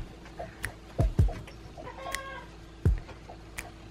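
A chick inside a hatching egg gives a few faint, sharp peeps at close range, spaced out over quiet background with soft pecking sounds between.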